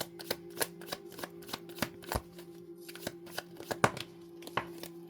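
Playing cards are shuffled and drawn in a quiet room, a series of sharp crisp riffles and flicks at irregular intervals, close and clear against near silence.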